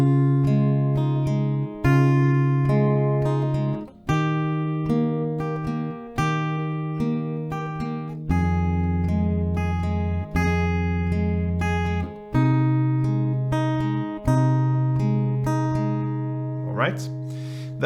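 Acoustic guitar strumming a slow chord round from a song, about nine steady chords roughly two seconds apart, each ringing out fully, close and bright.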